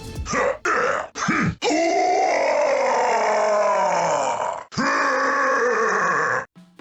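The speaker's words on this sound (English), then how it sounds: "You can hear a sample of this Bowser-ese in one of Kenny James's first games as Bowser, Mario Kart Wii" A deep, gravelly Bowser voice from Mario Kart Wii lets out several short grunts followed by a long, drawn-out growling groan, then another rough grunt.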